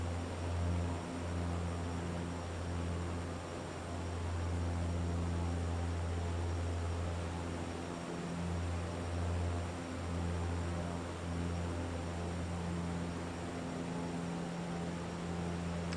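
Airliner engines in Microsoft Flight Simulator 2024 on a flight over Vancouver: a faint, steady low drone and hiss with a constant hum underneath, no voices.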